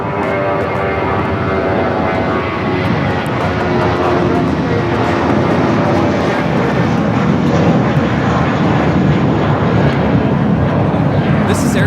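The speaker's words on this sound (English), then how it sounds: "This is Air Premia 102 taking off to Seoul on the 787-9 Dreamliner." An Air Premia Boeing 787-9 Dreamliner takes off from Los Angeles airport with a loud, sustained jet engine roar that stays steady and close throughout, and a voice speaks faintly over it.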